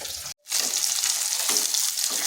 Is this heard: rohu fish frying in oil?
yes